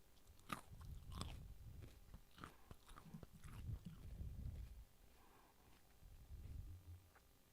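Someone crunches on raw carrots, chomping and biting in quick uneven bursts, close and fairly loud, with a few pauses between mouthfuls and no talking.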